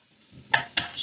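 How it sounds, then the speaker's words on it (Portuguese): Carrots sauté in a little oil in a tamagoyaki pan, giving a soft sizzle with two quick, close stirring scrapes. "Aqui vamos refogar a cenoura."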